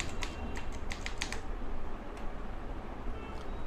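A PIN typed on a computer keyboard: a quick run of about eight close key taps, then one more isolated tap and a faint later click, over steady background hiss.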